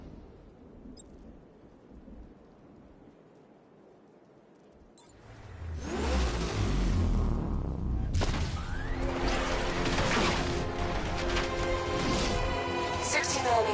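A tank cannon and gunfire in the Batman: Arkham Knight video game: a quiet stretch gives way to a swelling mechanical roar, then a sudden loud blast followed by a sustained, rumbling barrage.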